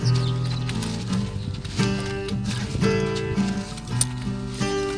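Hooves of a horse stepping backward on command during training for a horse that resists being mounted, a series of soft uneven clip-clop steps under a steady low hum and faint ambient noise, with no talk.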